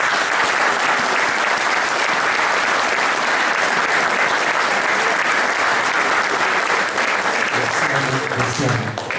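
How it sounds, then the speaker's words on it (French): Loud, sustained applause from a large crowd fills the room, steady clapping throughout that eases slightly near the end. "que je vous demande d'applaudir"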